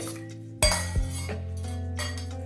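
Ice cubes drop into a dish for a mango and Rooh Afza falooda, giving two sharp, close clinks followed by faint rattling.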